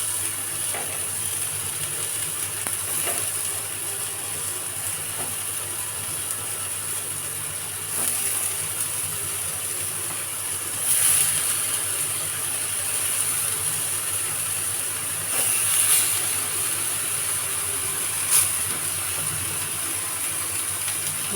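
Brinjal slices fry in oil on a hot pan, giving a steady, soft sizzling hiss with faint crackles that swell briefly now and then, with no talking over it.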